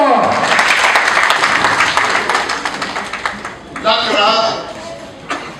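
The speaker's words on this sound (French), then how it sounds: "Applaudissez très fort." Audience applause at a Guinean artists' and comedians' conference, a dense wash of clapping that swells then thins out over a few seconds, with a voice speaking over it toward the end.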